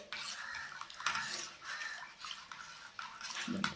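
Jaggery is stirred in a pot while Ugadi pachadi is made, giving soft, repeated scraping and clinking of a spoon against the vessel, faint and close, with no voices.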